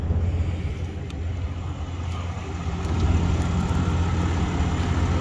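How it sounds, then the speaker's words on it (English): The diesel engine of a 2022 Ram 3500 4WD pickup runs at a steady, close low rumble, growing slightly louder partway through, with no speech over it. "You can hear that it's diesel, of course."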